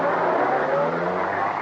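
A car engine roars steadily and close in a radio detective drama, a continuous dense motor rush with a faint whine, alone with no voices.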